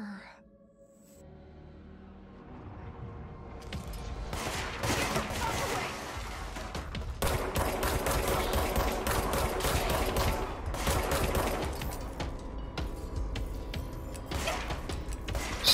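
Gunfire in the action game Control: repeated loud shots and bursts crack over a heavy mechanical rumble for most of the clip, starting after a quiet opening, with someone talking at times.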